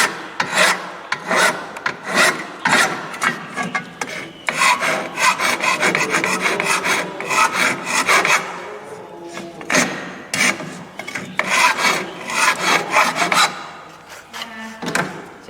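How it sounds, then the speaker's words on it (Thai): A hand file rasps steadily across the cut edge of an aluminium window frame, with loud, close, rhythmic forward strokes that repeat continuously and pause briefly between strokes. "ตะไบกินเนื้องานนะครับ เฉพาะดันไปด้านหน้านะครับ"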